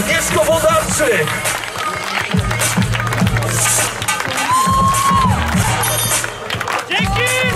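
Crowd cheering and applauding for a basketball freestyler at an outdoor event, loud and continuous, with an announcer speaking over it.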